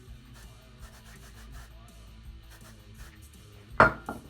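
Hands rubbing hairspray into hair while styling a trad goth deathhawk: soft, faint rustling and scraping strokes, with one sharper, louder rub near the end.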